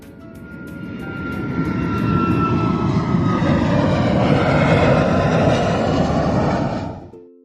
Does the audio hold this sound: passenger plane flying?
yes